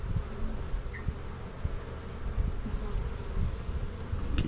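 Honey bees hum in a dense, steady drone from an opened hive with a supersedure split during an inspection, close and continuous, with faint occasional background sounds.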